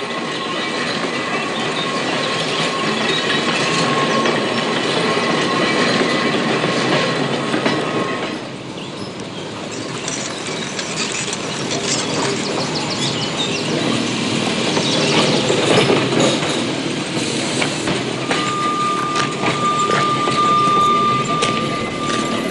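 A 1950 tram rolls along rails between Nijmegen and Berg en Dal, its wheels clattering steadily with rhythmic clickety-clack over joints, a brief quieter stretch midway, and a thin squeal late in the run.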